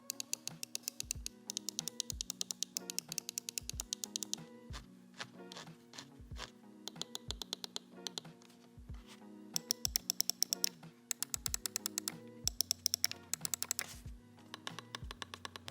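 Razer Viper Mini gaming mouse with optical switches, clicked in a steady run of crisp, close clicks, some in quick bursts, with a faint steady hum underneath and no voices.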